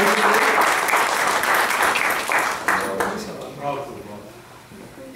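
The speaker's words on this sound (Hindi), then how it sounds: "एक दफ़ा दोबारा तालियां होनी चाहिए जनाब" Audience at a mushaira poetry gathering in Peshawar breaks into dense, loud applause that gradually thins and fades, with a voice speaking faintly beneath the clapping toward the end.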